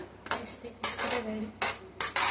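Food, ghee mixed in, is stirred in a metal pot with a spoon in several short scraping strokes separated by brief pauses, close and moderately loud.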